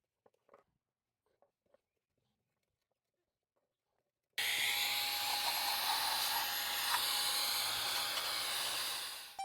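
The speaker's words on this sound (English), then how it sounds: "we can give it a good pass with some brake clean and blow it out with my air tool" Compressed air tool blasting steady and loud inside a BMW E46 oil pan after a brake-clean pass, a continuous broadband hiss running about five seconds after faint scattered clinks in near silence.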